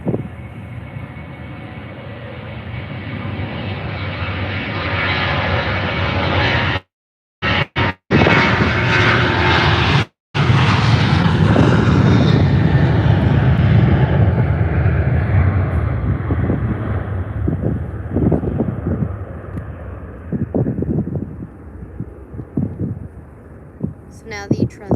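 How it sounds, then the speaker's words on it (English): A Ryanair Boeing 737-800 jet departs for Dublin from Faro Airport, its loud, sustained engine roar rising and then slowly fading into the distance over about twenty-five seconds, with a few brief dropouts early on. "Here goes now the Ryanair 737 MAX 8. No, sorry, 737-800"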